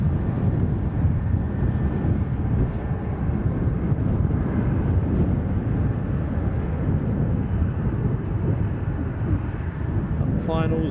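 An Aer Lingus ATR 72-600 turboprop on final approach produces a loud, steady engine drone with wind buffeting the microphone throughout, and faint speech near the end.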